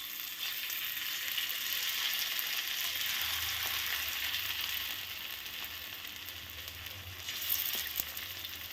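Pakoras of squash leaves frying in hot oil give a steady, close, broad hiss that holds evenly throughout, with a few faint pops near the end.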